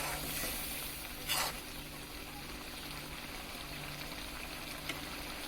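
Shrimp bhuna curry sizzles steadily in the pan as it is lightly stirred, with a soft hiss throughout and a brief louder scrape of the spoon near the start.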